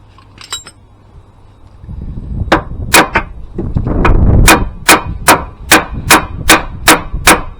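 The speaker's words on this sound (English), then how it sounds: "I need to hammer a 14mm socket on that" A hammer driving a 14mm socket onto a Range Rover bolt: after some shuffling, a run of about ten sharp, ringing metallic strikes close by, evenly spaced and speeding into a steady rhythm.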